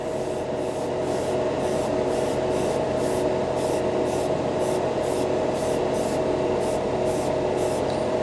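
Mr. Hobby Aqueous acrylic paint, a No. 34 Cream Yellow over Aqueous Gray Primer, hisses steadily from an airbrush in a continuous close spray, with a faint regular pulsing running under the constant airflow.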